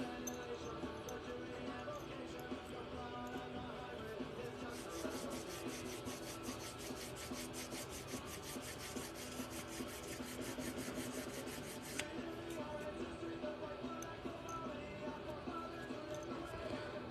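Silver pendant sanded by hand with 280 grit sandpaper: a steady, close, gritty rasping of rapid back-and-forth strokes, with a person talking over part of it.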